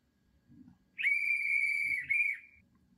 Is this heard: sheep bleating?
no